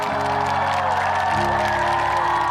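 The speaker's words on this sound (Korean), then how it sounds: "다시 한 번 박수 주실까요?" A studio audience applauds after a trot singing performance on a Korean TV competition stage: a broad, continuous wash of clapping and crowd noise, loud and steady, with lingering musical tones underneath.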